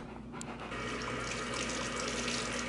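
Tap water runs steadily into a kitchen sink as hands are wetted for shaping sushi rice, a close, continuous hiss and splash.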